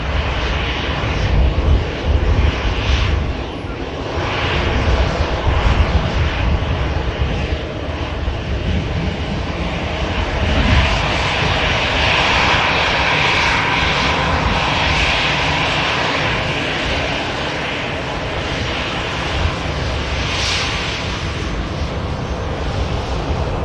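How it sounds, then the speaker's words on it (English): An easyJet Airbus A320 with sharklets arrives at Manchester Airport, its jet engines giving a loud, sustained roar that swells and eases over the long pass with no other sounds. "EasyJet Airbus A320 with the Sharklets just arrived in at Manchester Airport."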